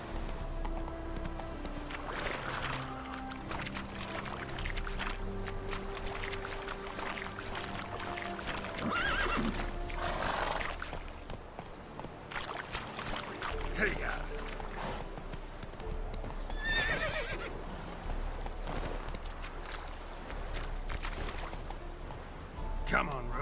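A horse in The Witcher 3 gallops with steady clip-clop hoofbeats and lets out neighs and whinnies, over game music and ambient effects, with voices speaking at times.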